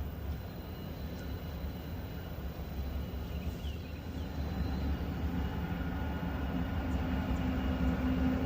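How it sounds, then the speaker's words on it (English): A train approaches near a bridge, heard as a low, broad rumble that builds gradually and stays distant and fairly faint, with no talking. "we hear a train coming towards us"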